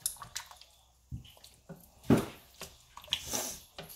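Soup ingredients are stirred and packed together with tomato juice in quiet, scattered wet squelches and drips. Short pauses fall between the movements.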